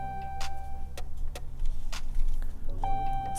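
Inside a 2013-2018 Ram truck cab as it is switched on: steady ticking chimes and short electronic tones over a low hum, close by.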